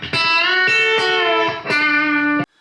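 An electric guitar plays a short country lick using chicken picking and a string bend, with a few sharp snapped attacks and ringing bent notes, loud and close before cutting off abruptly.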